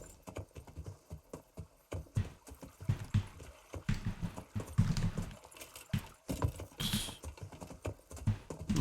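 A horse gallops in the medieval video game Kingdom Come: Deliverance, with hooves clip-clopping in an uneven, rapid rhythm over several seconds and a brief neigh-like rise amid the fairly quiet pounding.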